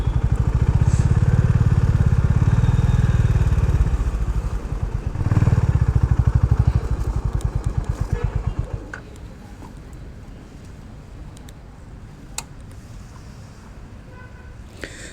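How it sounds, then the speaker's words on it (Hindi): A motorcycle rides in close by near Karanji Lake in Mysore, its loud engine chugging for several seconds before easing off and cutting out as it is parked, leaving quiet surroundings. "सो पहले बाइक को पार्क करते हैं,"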